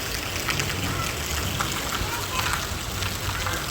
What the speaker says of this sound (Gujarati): એવો વરસાદ ચાલુ થયો